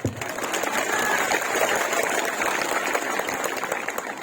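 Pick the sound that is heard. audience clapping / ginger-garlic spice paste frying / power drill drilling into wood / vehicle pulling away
audience clapping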